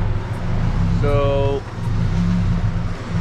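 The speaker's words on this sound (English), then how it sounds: "this is the way the car is running" A Nissan KA24DE engine that is running poorly and due for compression testing sits idling with a steady, close low drone, and a brief tonal voice-like sound passes over it.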